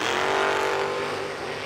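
A first-generation F-body Camaro or Firebird at a drag racing event, its engine roaring at full throttle in one loud, sustained burst with crowd and track noise behind it.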